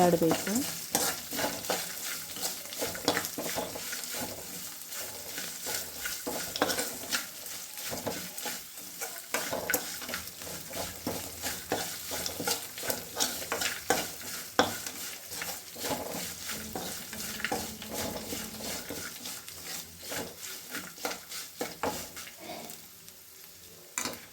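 Asafoetida powder stirred into hot oil in a frying pan while making sweetcorn upma, giving a loud, steady sizzle with repeated spatula scrapes against the pan and no speech.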